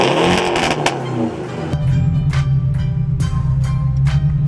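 A 2018 Porsche 718 Cayman, racing against a 2020 Ford GT, accelerates hard, its engine rising in a loud, strained rev before settling into a steady, throaty drone as it pulls away, heard close up from inside.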